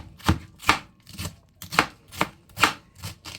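A knife chops cabbage on a board in about nine crisp, even strokes, close and loud, with no voices.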